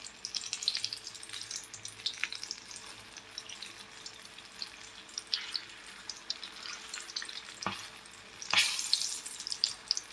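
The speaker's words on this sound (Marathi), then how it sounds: "आता हे बघा तेल गरम झालेलं आहे. गॅस मिडियम केलाय मी. आता आपण ह्याचे पकोडे सोडून घेऊया." Sweet corn pakoras dropped into hot oil over a medium gas flame give a low, steady deep-frying sizzle with soft crackles and a couple of brief louder bursts near the end, with no talking.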